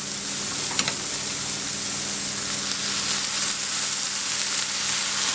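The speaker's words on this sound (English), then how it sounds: "I'm going to deglaze the pan with a little white wine." A hot pan deglazed with white wine sizzles loudly and steadily, a dense continuous hiss with a brief clink early on and no talking.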